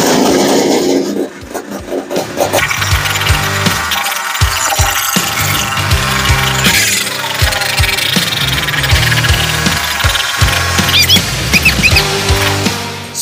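A Honda Odyssey FL350 with a Lectron carburetor, run without choke, starts loudly and settles into a rough, uneven idle close by, with clattering mechanical noise and sharp bursts throughout.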